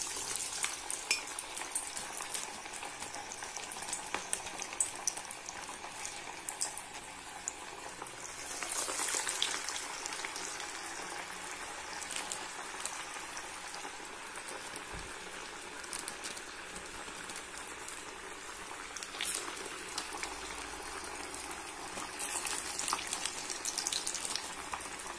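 Mixed lentil vada frying in hot oil in a kadai, a steady dense sizzle and crackle running throughout with brief louder bursts of bubbling, no talking.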